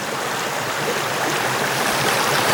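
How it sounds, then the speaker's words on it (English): The Water of May runs along a new mossy course, a steady close rush of flowing water with no voices. "this is the new course of the river, this bizarre, mossy, watery world in here"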